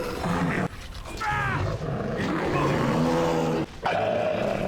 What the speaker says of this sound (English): There's too many dogs here.